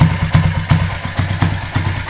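A motorcycle engine adapted as a generator runs at a rough idle with a misfire, loud and close, its uneven thumping pulses repeating in an irregular rhythm with clattering under them.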